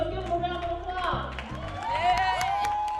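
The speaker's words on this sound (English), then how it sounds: "So let's give them a round of applause." Applause from a crowd at a hair show in Northern California, with scattered clapping, mixed with cheering and whooping voices and some background music.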